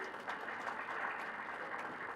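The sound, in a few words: audience applause for Nigeria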